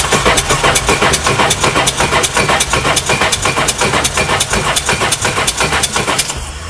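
Personal watercraft jet ski engine cranking over on the starter during a compression test with plugs disabled, a loud, steady rhythmic chugging of rapid even pulses that stops near the end.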